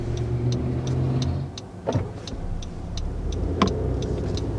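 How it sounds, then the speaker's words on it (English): Inside a 2021 Honda CR-V, the engine quietly restarts through its auto start-stop system, a soft brief turnover with a low hum under faint cabin ticking. "So that right there was our auto start-stop system."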